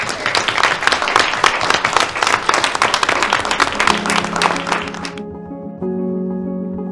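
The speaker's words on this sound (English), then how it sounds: "one more round of applause for all of our presenters" Audience applause for a group of presenters on an inspirational community show about teens, loud dense clapping for about five seconds before it cuts off, followed by a sustained musical tone.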